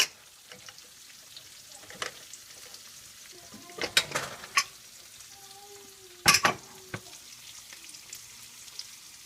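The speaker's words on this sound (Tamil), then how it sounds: "இப்போ நல்லா வெங்காயம் வணங்கிட்டுருக்கு" Onions frying in a pan for a drumstick and lima bean curry, a quiet soft sizzle under intermittent sharp clinks and scrapes of a spoon stirring against the pan.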